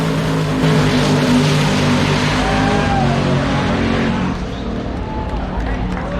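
A 1957 Chevy race car with carbon fiber interior and titanium parts roars on a test run, a loud sustained engine drone that eases off toward the end, with a voice talking over it.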